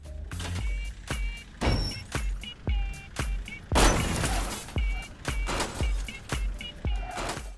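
Two cars bouncing on hydraulics in the video game Goat Simulator Payday, a series of repeated thudding bangs with metallic creaks in a steady rhythm, loud and close, about a dozen impacts with no talking.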